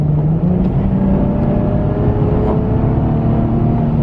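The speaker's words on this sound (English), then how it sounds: "Watch this, I'm gonna hit the brakes." A Nissan 370Z drives along with a steady, loud engine drone and tire roar from inside the cabin, the tone shifting slightly as it slows under braking; no voices.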